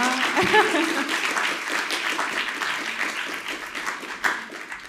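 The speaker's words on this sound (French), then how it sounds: "on les applaudit" An audience at a mentoring conference breaks into applause, a brisk burst of clapping with a brief voice near the start and scattered murmurs as the clapping gradually thins out.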